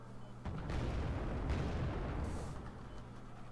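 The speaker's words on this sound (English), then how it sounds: "Bedouin's getting chased off by long range fire, and T-55 is also shooting at him" Long-range gunfire and T-55 tank cannon shots in a strategy video game, heard as a dense, rumbling barrage of booms with a steady engine drone underneath, fairly faint overall.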